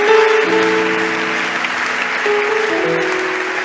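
A church congregation claps and cheers together, loud and close, with sustained applause filling the room and a held tone from a keyboard or organ running underneath.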